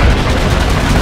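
Dense, continuous gunfire from the sci-fi shooter Call of Duty: Infinite Warfare, loud and close, with rapid overlapping shots and booming low rumble throughout, no talk.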